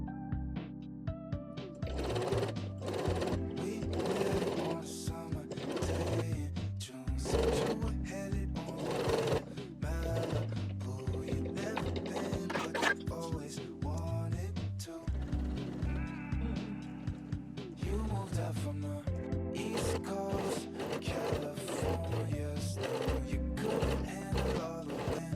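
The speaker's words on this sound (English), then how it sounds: "I'm using my fingertips to push the piping to the foot in order to sew closer to the piping" A sewing machine stitches piping onto pajama pants, running in steady rhythmic bursts of fast needle chatter with brief pauses between runs, close and continuous.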